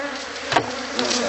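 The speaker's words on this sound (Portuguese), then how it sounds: "O movimento é muito grande de abelha aqui" Dense, steady buzzing of many honey bees swarming close around the entrance of a hive box during honey harvesting, with a couple of louder swells as bees pass near.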